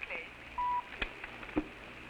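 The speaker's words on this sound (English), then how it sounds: "Dial the operator." A telephone being dialed in an old radio drama, with short tones and clicks heard close, and a faint voice underneath.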